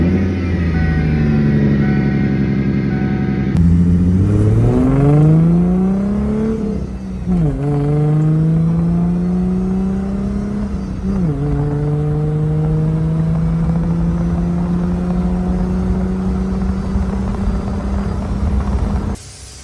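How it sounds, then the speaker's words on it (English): A car engine starts cold after sitting for over a week: a loud roar that rises on startup, then a few revs climb and fall before it settles into a steady, high idle, close by and alone. "I haven't started my car in a little over a week"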